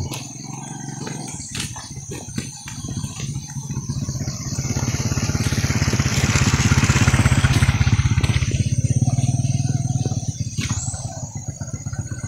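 Motorcycles ride along a badly damaged road near a flooded area in Davao Oriental, engines rising to a loud close roar in the middle with clattering and bumps, then easing off.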